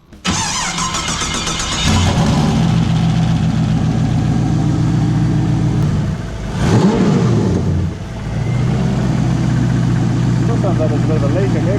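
BMW E30 fitted with an LS1 V8 engine cranks and fires, then settles into a loud, rumbling idle with a brief blip of revs midway before dropping back to a steady, throaty idle.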